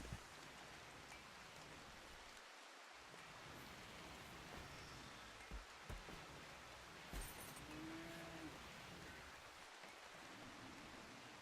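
Steady rain hissing down in the video game RimWorld, a constant broadband wash of drops running unbroken throughout with no talk over it.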